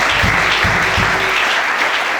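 Church congregation clapping together in a sustained burst of applause, loud and dense from start to finish, with a few heavier claps standing out early on.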